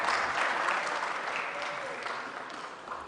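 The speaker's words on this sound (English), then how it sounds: "Another round of applause for this wonderful choir." A concert audience applauds a choir after a performance of national anthems, steady dense clapping filling the hall and slowly tapering.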